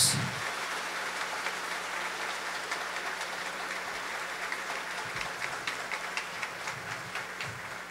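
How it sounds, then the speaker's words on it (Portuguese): A church congregation at a special Mass applauds after the Gospel reading, a steady wash of distant, reverberant clapping in a large hall with a low hum beneath it. "Vamos acolher a palavra de Deus com uma grande salva de palmas."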